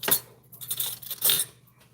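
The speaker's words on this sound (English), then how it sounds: "I'm gonna give them another little toss" Apples sautéing in a pan over low heat are tossed, giving two short, fairly close bursts of clattering and rattling with a quieter stretch between them and no talking.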